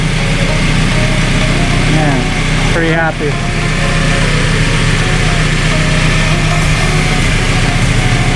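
The Toyota 3RZ engine in a 1999 Tacoma idles loud, smooth and steady throughout, with someone speaking briefly over it.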